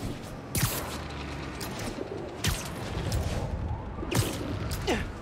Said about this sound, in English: These birds are fast.